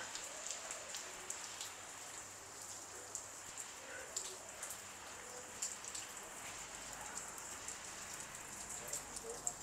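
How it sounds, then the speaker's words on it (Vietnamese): Rain falling steadily in a residential alley in Saigon, a close, even patter of drops on surfaces with occasional sharper taps, faint and continuous throughout. "trời mưa."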